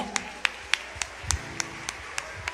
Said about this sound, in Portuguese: Vamos aplaudir Jesus para a vida do Igor, amém? Aplaude Jesus.